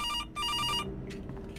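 Telephone ringing in two short electronic bursts, close and clear, followed by a low background hum.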